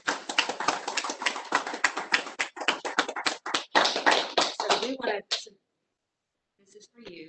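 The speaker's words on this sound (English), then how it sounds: "Let's give Doug a round of applause." A few people clapping at a school board of trustees meeting, sparse close hand claps for about five seconds before stopping abruptly, followed by quiet and faint speech.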